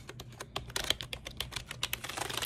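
Plastic keys on a mini MIDI keyboard, either an Akai LPK25 or a Korg Nanokey2, tapped in quick irregular clicks and clatters, close and clear with no talking.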